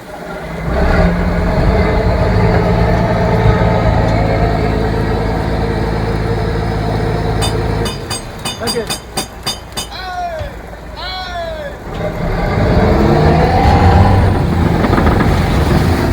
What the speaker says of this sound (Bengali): পুরো ট্রলারটি ব্যাকে যাচ্ছে।